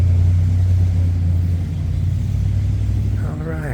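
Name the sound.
drag car engine revving at car show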